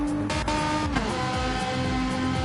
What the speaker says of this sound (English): Oh god, that Ferrari makes a great noise,